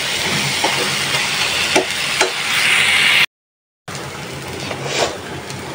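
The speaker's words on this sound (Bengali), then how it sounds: "আর কিছুক্ষণ নাড়াচাড়া করে তারপর তুলে ফেলবো। আর একটু ভাজা ভাজা হবে।" Pumpkin leaves stirring and frying in a pan give a loud, continuous sizzle and hiss, broken by a few scraping strokes of the spatula and one brief silent gap.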